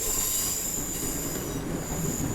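A Class 365/333 electric train departs in Train Simulator Classic, giving a steady, close rail rumble with a continuous high wheel squeal and whine throughout, with no voices.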